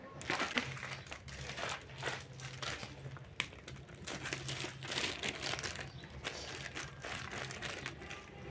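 A Daraz parcel's plastic packaging is handled and torn open at home, with a quiet, irregular crinkling and crumpling that comes in bursts, close by, with no talk.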